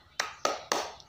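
Students clap the 'tepuk semangat' classroom chant in three sharp, evenly spaced claps, close and clear in a quiet room.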